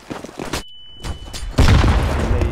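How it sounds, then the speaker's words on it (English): A grenade goes off in a Counter-Strike: Global Offensive competitive match: after a few lighter in-game clicks and thumps, a sudden heavy boom hits and rumbles on loudly to the end. "佢哋一个 grenade 嚟，我哋都一镬熟"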